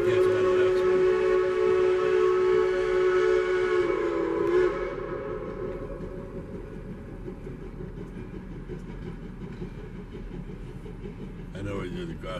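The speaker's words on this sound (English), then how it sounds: "We noticed a train was leaving just as we were going through town" A loud, sustained train whistle blasts for several seconds, then gives way to the steady rumble and clatter of a passing train, with a brief second whistle near the end.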